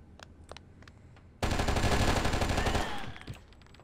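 Gunfire in the PC video game Oni: a few faint isolated shots, then a loud sustained burst of rapid automatic fire lasting about a second and a half before trailing off.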